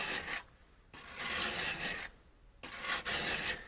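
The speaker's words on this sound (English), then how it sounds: "I found this a very effective way to sharpen my chisels" A wood chisel is sharpened by hand, pushed in two long rasping strokes across the sharpening surface with a short quiet gap between them, close and fairly soft.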